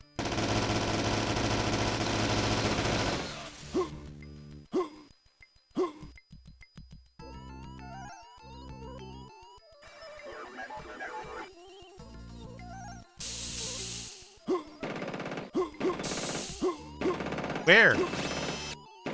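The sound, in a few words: gunfire in the video game System Shock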